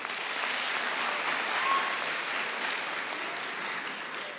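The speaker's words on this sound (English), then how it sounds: "You can give yourselves a round of applause." Sustained audience applause at a youth conference, steady and dense throughout, fairly distant and even in level with no talking over it.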